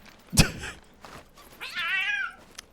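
A cat meows in the pirate video game Sea of Thieves, a single drawn-out wavering cry after a short thump, heard clearly with no talk over it.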